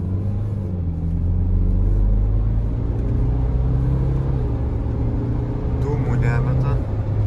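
A 2013 BMW X3 with a 2.0 diesel engine and 309,000 km accelerates from inside the cabin, a steady low rumble that swells and holds, with people talking over it.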